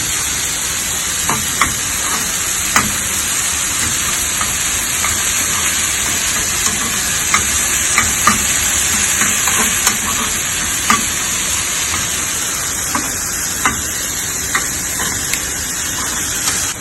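Masala for aloo puri fries in a non-stick pan under a steady loud sizzle, with repeated scraping strokes of a stirring spoon breaking through; nobody speaks.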